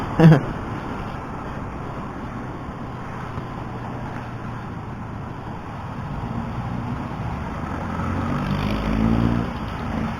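A new motor scooter rides through light city traffic, its steady engine hum blending with broad road noise and passing vehicles, fairly constant with a slight swell toward the end.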